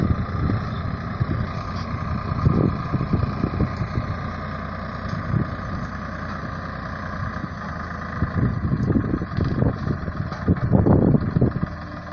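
Tractor engine runs steadily while eucalyptus is cleared on a rural smallholding, a continuous rumbling drone with slight swells in loudness, heard from a moderate distance with no talk.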